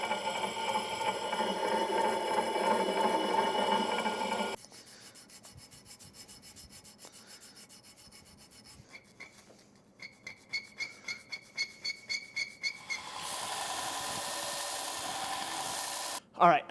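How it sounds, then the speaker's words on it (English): A steel hand file works a Damascus Bowie knife blade with steady, close rasping, first as a continuous scrape and later as a run of evenly spaced back-and-forth strokes, broken by shifts in sound between passages. "I'm using a hand file and I'm trying to stay as steady as possible"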